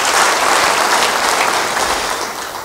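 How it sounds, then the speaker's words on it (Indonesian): A church congregation bursts into loud, dense applause that is close and continuous, a thick wash of clapping with some crowd noise mixed in. "Beri tepuk tangan bagi dia."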